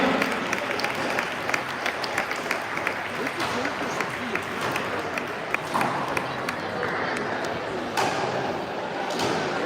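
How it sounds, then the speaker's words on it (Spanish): Applause for Cañamares at a Basque rural sports championship fair, a steady outdoor crowd clapping for nearly ten seconds, with scattered thumps and an announcer talking over it. "Un fuerte aplauso a Cañamares."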